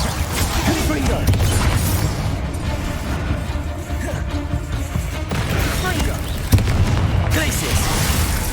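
Repeated Confringo spell explosions during a Hogwarts Legacy battle, dense booming bursts and crashes over a constant roar, with a voice calling out spells.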